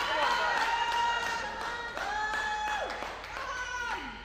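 A crowd at a strongman competition makes a continuous roar of cheering and clapping during a log press, with an announcer's commentary heard over it throughout.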